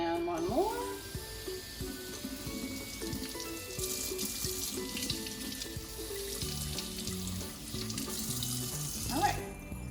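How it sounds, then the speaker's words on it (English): Water drains from a houseplant pot into a kitchen sink, a continuous splashing trickle with gurgling bursts and small drips, close and moderately quiet. "And then we'll just leave this in the sink and let the rest of the water drain out"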